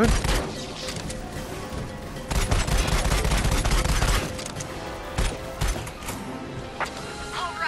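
Gunfire in a VR shooter video game rattles in dense, loud bursts with crashes and mechanical clatter, pausing briefly between volleys.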